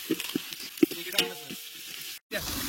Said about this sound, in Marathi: आलं लसूण पेस्ट टाकलं चटणी टाकून हलवायचं